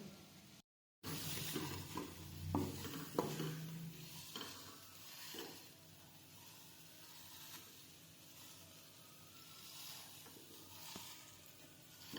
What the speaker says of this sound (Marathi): याच्यामध्ये मी बेसन भाजून घेणार आहे, एक अर्धी वाटी।